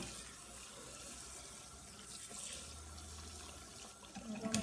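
A tap runs steadily into a sink while soapy hands are washed under the stream, a faint, continuous splashing hiss.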